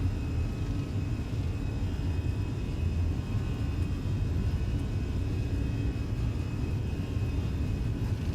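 Airbus A320 engines at takeoff thrust in Microsoft Flight Simulator give a steady, deep roar with a faint high whine on top, holding constant throughout.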